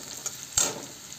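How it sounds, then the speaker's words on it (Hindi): Fried onions with a spoonful of turmeric powder being stirred in a pan, a soft scrape and brief sizzle as the spoon moves through, quiet and close. "इसको भी चला लेते हैं इस तरह से"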